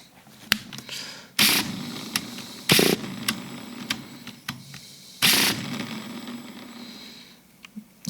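Nitro engine of a Traxxas Nitro 4-Tec RC car being restored, idling with sharp bursts of revving that rise and cut off several times, close and loud, with small clicks in between.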